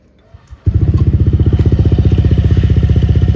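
A motorcycle fitted with a DIY modified air filter cover starts up after a moment of near silence and then runs at a steady, close, loud idle with an even pulsing beat.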